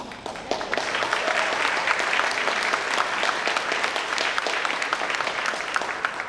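Sustained applause from an audience at a school board of education awards ceremony, greeting a Ludlow High School band award recipient; dense, steady clapping fills the whole stretch at a close, even level.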